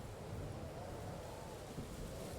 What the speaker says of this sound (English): Sounds very windy and stormy, but I think it's just windy.